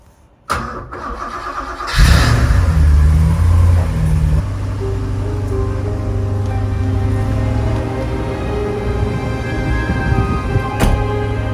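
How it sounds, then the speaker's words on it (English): A rare 1990s Porsche 928 GT under restoration cranks after a sharp click, catches with a loud roar and then settles into a steady, rumbling idle close to the microphone. "Come on, try and fire it up, Tom."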